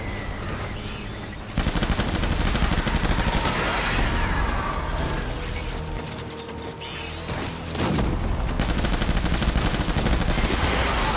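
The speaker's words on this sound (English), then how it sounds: "They're not using shotguns, they're using single shot rifles." Single-shot rifle fire in Death Stranding: loud, sharp cracks repeat over a dense, noisy battle din that swells again toward the end.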